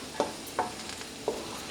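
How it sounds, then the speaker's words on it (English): A spoon stirs pav bhaji with masala in a pan, giving a few soft scraping strokes spaced apart over a steady low sizzle. "Give it a good stir."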